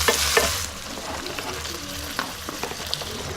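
Onions frying and sizzling in oil for Ethiopian doro wot, with a steady close sizzle, light stirring scrapes and a brief louder burst at the start.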